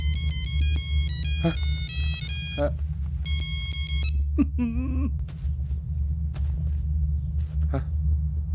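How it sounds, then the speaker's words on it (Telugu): A mobile phone ringtone playing a melodic song tune in a comedy film scene, bright electronic notes sounding in bursts over a steady low hum, with brief voices and other noises interrupting midway. "Ring tone sir. Ring tone."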